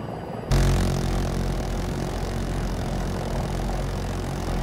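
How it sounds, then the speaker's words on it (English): An attack helicopter in Battlefield 2042 roars in after a brief quiet start, and its loud, steady low rotor and engine drone holds throughout. "Hostile helo on us."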